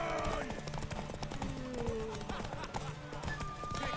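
Horse hooves clip-clopping with whinnies and neighs in The Witcher 3, set against game ambience and tonal music, a steady rhythm of hoofbeats throughout.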